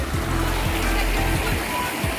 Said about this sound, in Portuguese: venha conhecer essa cachoeira, que é top demais